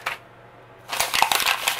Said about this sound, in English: And I'll probably crumple it up a little bit.